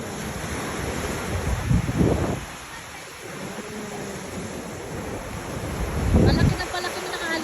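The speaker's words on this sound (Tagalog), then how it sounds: "Palaki ng palaki ng alon, no?" Ocean waves breaking and rolling in, loud surges of surf with heavy wind buffeting the microphone between swells.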